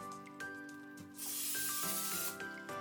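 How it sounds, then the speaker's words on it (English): Two short bursts of hissing olive oil spray onto a steak, the second longer, sound close by against a quiet background with faint humming tones, during air fryer cooking. "spray just a little bit more olive oil"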